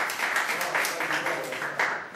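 An audience applauds a performer at a televised Italian music show, a short burst of dense, bright clapping with rhythmic swells, fairly close and lively, with a voice faintly mixed in.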